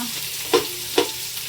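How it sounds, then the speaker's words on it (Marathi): Onions sizzling in a pan as they brown for chicken biryani, a steady soft fry with two distinct stirring scrapes, close by and without speech. "कांदा थोडा ब्राऊन ब्राऊन करू द्यायचा आहे"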